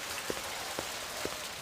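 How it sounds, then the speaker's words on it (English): Steady rain hisses in the Blade Runner video game, quiet and even, with a few soft dripping thuds landing at regular intervals. "Run in the rain. It's gonna rain the whole game."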